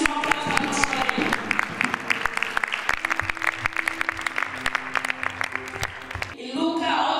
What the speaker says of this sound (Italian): Facciamo un grandissimo applauso alla nostra Dio.